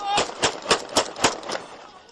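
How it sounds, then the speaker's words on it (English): A quick string of about six sharp gunshots rings out in a steady rhythm, fairly close, as celebratory fire in the streets of Sirte. "filled the streets of Sirte with celebratory gunfire"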